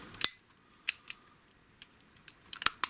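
Hard plastic parts of a Zeta Toys Onslaught Transformers figure being folded into place, giving a scattering of sharp, close clicks and snaps with quiet pauses between them and a quick cluster near the end.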